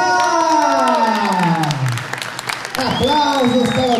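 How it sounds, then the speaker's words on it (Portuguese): At an awards festival, the crowd applauds and cheers for Gustavo Ávila, whose clapping sits under loud gliding music and voices, with a short dip before the sound surges again. "Aplausos para Gustavo Ávila!"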